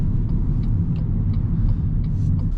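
Naturally aspirated 1.8 engine of a 2024 Toyota Corolla Altis Premium Hybrid runs steadily, a constant low rumble heard from inside the car with no one talking.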